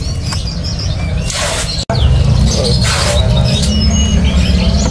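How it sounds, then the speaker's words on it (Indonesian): Teledekan gunung songbird in a market setting, calling in bright repeated chirps and short phrases over a steady background hum, fairly loud and close. "Nah, ini ada burung teledekan gunung"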